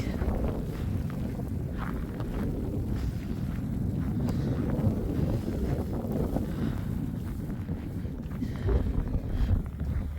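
Strong wind buffets the microphone outdoors at a snowy station parking area in Calgary in -20 °C cold, a continuous low rumbling roar with gusty swells that stays loud from start to finish.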